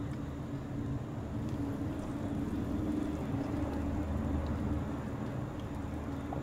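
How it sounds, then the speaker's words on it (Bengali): Jackfruit kofta balls fry in hot oil with a continuous close sizzle and crackle that holds at an even level. "तेल गरम हो गेছে, এবার আমি বলগুলো ভেজে নিচ্ছি।"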